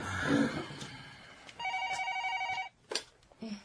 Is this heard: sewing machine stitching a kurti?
no